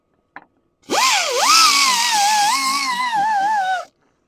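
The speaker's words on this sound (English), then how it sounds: "auto body sander. I like this thing, man. This Harbor Freight." A Harbor Freight auto body sander in a woodturning shop starts after a short click and revs up with a loud, whining, slightly wavering drone that lasts about three seconds before it cuts off.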